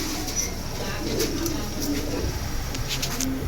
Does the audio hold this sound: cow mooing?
no